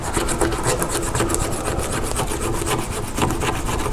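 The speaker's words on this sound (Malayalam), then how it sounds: "ഇത് ഇങ്ങനെ സ്ക്രാച്ച് ചെയ്താൽ പൊക്കോളും." Black adhesive being scraped off a mobile phone frame during repair: rapid, steady rasping strokes, close and dense, continuing without pause and with no talk.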